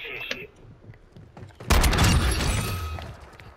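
A heavy shotgun blast in Call of Duty: Modern Warfare II 2v2 gunfight booms loudly and rings out with a long roaring tail, after a stretch of quieter game noise and faint voice chatter.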